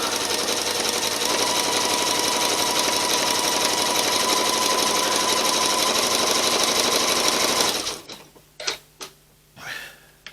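Sewing machine running steadily in a fast, continuous zigzag stitch while appliquéing fabric, loud and close, stopping near the end with a few clicks and handling noises after.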